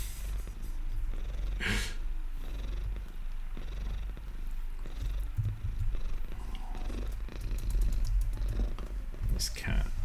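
A house cat purrs steadily close by, a low continuous rumble that runs the whole time beneath occasional brief voices and a few light taps.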